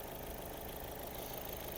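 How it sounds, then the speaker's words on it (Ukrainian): A 2007 Opel Astra with a 1.6 petrol engine and 174,000 km idles smoothly and evenly, a steady close mechanical hum without misfires or surges, heard alone with no talking. "Ідеально працює двигун, він не сопонить, не троїть"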